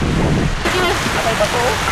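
Rain pours down as a dense, steady wash of noise during an outdoor cleanup event, loud and continuous throughout.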